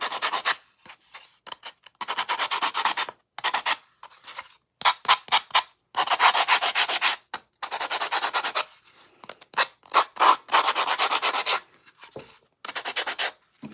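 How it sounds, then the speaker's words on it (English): Higher-grit sandpaper rubbed along edges to rough and distress them, heard up close as a rhythmic series of short, scratchy strokes separated by brief pauses, with no talking. "I'm going to sand around these edges just to rough them up, distress them a little bit."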